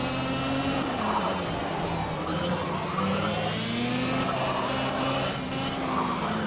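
Go-kart engines race in Project CARS, a steady buzzing drone of small engines at sustained revs with slight pitch shifts as the karts speed along, continuous and fairly loud.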